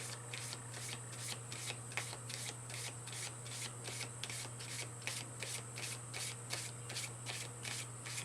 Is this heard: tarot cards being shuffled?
yes